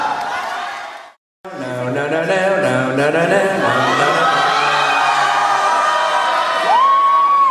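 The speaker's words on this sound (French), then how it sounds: "Applaudissez-la." Cheering and whooping from a crowd at a cosplay contest during Mang'Azur 2013, with shrill voices and shouts layered over clapping after a brief cut of silence, loud and lively with near-field yelling throughout.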